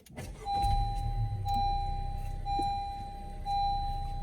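A 2020 Honda Civic sedan is push-button started, giving a short cranking burst that settles into a steady idle hum, while a soft electronic chime repeats at regular intervals over the engine.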